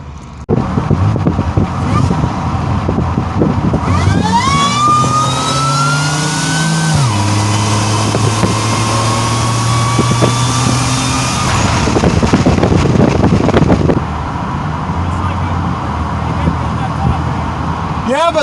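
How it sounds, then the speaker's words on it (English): At a drag strip, a supercharged Pontiac Grand Prix GTP revs up loudly and launches, its engine pitch sweeping upward through the gears before easing off as the car pulls away, with crowd noise around it. "Going to run this supercharged GTP."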